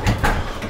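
A door is pulled shut during a late-night scramble, a brief, close thud and scrape lasting well under a second.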